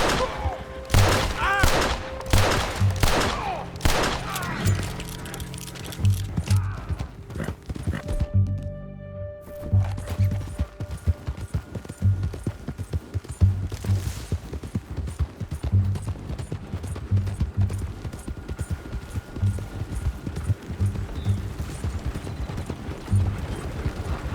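Gunfire in Red Dead Redemption 2 crackles in a dense burst early on amid galloping horse hooves, whinnies and shouting voices, then hoofbeats carry on rhythmically with scattered shots under the commotion.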